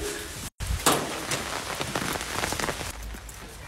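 Rain falls outside, pattering densely on surfaces with scattered sharper drops, steady and fairly close after a brief cut near the start, with no talk.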